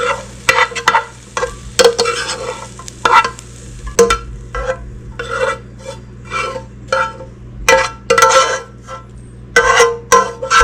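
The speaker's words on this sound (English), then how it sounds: "I will now add my vegetables with the meat." Beef and vegetables sizzle in a small frying pan, with a utensil scraping and stirring in repeated bursts at close range; no one talks.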